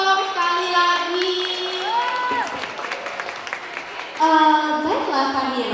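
A crowd claps and cheers under a bright, sustained musical tone, with voices calling out over the steady applause.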